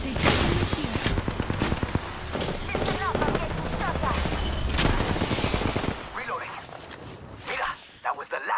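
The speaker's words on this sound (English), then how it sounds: "I'm getting shot at" Rapid gunfire in the battle royale shooter Apex Legends, dense bursts of close shots and automatic fire crackling for several seconds, then tapering into scattered clicks and a few last shots.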